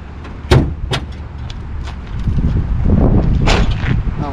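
Car doors on a vehicle at an auction open and slam with several sharp thuds and clunks, two close together early and another later, over a rumbling low background.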